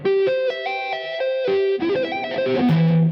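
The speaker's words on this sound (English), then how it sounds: "Sweep picking is when you take your pick and move in the direction of the strings like this." A rapid sweep-picked electric guitar arpeggio, notes rippling up and down in quick sweeps with a slight effected shimmer, played alone and fairly loud.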